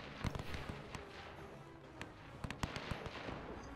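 Scattered artillery fire in the WW1 strategy game Between Empires sounds as distant, faint booms and crackling pops at irregular intervals over a low, rumbling battlefield background.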